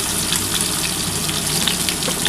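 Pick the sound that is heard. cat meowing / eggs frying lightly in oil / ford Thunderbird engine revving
eggs frying lightly in oil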